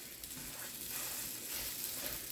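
A homemade Taco Bell–style crunchwrap browning upside down in a pan while pressed flat with a spatula, giving a continuous soft sizzle and hiss at low, even volume without speech.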